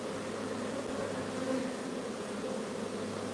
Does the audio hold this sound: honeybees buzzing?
yes